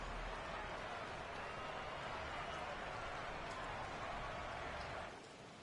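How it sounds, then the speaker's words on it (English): Rain falls steadily in a Madden 22 football game, a dense, even hiss that holds throughout and then drops slightly in level at the end. "The rain set to continue as we are underway in the second half."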